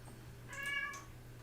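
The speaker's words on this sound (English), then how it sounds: "A very unhappy cat is meowing in the background." An unhappy cat meows once from the background, a faint, drawn-out, plaintive cry over a low steady hum.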